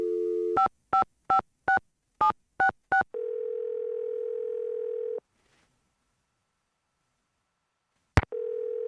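Phone line sounds in the Nancy Drew game Secret of the Scarlet Hand: a quick run of eight keypad dialing beeps, then a steady connection tone for about two seconds, silence, and a short click before another tone begins.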